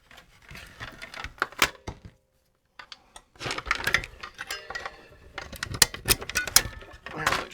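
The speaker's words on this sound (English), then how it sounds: "Sometimes these battery contacts are a little tough to get loosened out of the slots they go into." Battery contacts are worked loose from their slots in a TRS-80 Model 100 with a tool, producing close, irregular clicks, scrapes and metallic taps in bursts, with a short quiet pause partway through.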